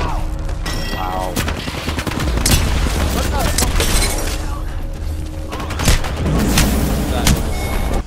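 Sniper rifle fire in a video game amid a dense, loud barrage of shots, booms and explosions that runs the whole time, with people talking over the din.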